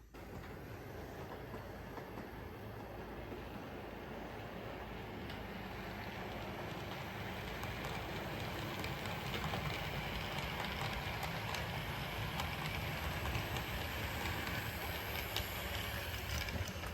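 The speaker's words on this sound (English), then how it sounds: "Let's run that train one time now everything's dry." A small model train rumbles and clatters steadily along its track, a faint continuous running sound that grows slightly louder over time.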